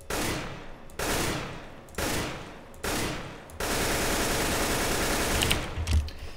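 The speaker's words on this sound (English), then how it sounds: "when you shoot with a gun, the sound is registering that you're shooting 3 bullets, and you hear 3 bullets being shot" Gunfire in CS:GO where each single shot sounds like three rounds at once: four loud, evenly spaced blasts followed by a longer sustained burst of rapid fire.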